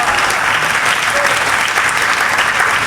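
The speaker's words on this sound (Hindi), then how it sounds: "तालियां जरा मन से होनी चाहिए।" Loud, dense audience applause at a Hindi comedy poetry show in a society hall, continuous and close throughout.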